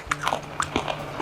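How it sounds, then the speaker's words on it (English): Roasted chickpeas crunched between the teeth, a few short, close bites spread over about a second, with no talking. "Roasted chickpeas. They're very crunchy."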